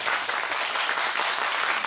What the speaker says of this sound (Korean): 박수 받으겠습니다